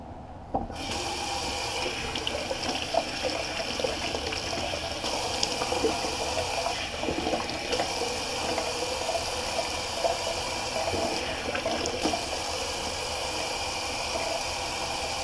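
Cold water runs steadily from a sink tap for a rinse while shaving, a constant close splashing flow lasting throughout with no talk.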